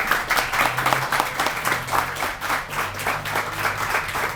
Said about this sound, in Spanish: Impresionante, Gustavo, se merece un aplauso.